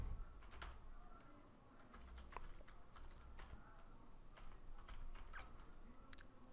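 Quiet clicking of keys on a computer keyboard while typing on a Windows 10 machine, an irregular run of soft, close taps with short pauses, no voices.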